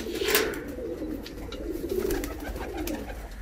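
A rare black Malwai pigeon coos in a soft, steady run of low throaty calls, close by and continuing alone over faint background noise.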